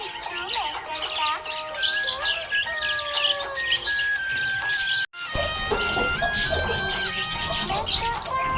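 Happy budgie chirping, a bright run of quick tweets and warbling whistles, close and lively, with a brief break midway before the chatter resumes; a background voice or music may sit underneath.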